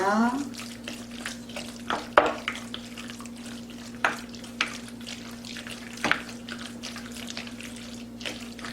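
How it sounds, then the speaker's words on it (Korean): Salted pollock tripe is mixed by hand with chili powder in a bowl, giving a run of wet squelching and slapping sounds at an irregular rhythm over a low steady hum. "고춧가루 좀 넣고 먼저 좀 버무릴게요"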